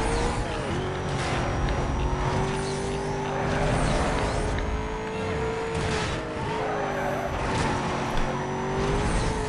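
A car racing in the video game Need for Speed: Most Wanted holds a loud, steady engine drone with rising and falling revs and brief tire squeals, continuous through the whole stretch with no talk over it.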